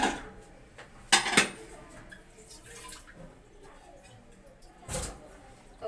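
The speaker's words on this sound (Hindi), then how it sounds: "बर्तन को धोके खाना बनाए तो एक बार फिर से खंगाल ली" A cooking pot being rinsed with water in a home kitchen: a few loud clattering splashes and metallic knocks stand out against soft background noise, with a final clunk near the end.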